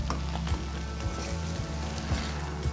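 Zarda pulao rice with sugar stirred in a pan over medium heat, a steady close sizzle broken by regular scraping strokes of the spoon about every half second.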